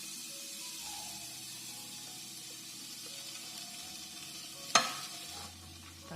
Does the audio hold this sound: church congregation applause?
no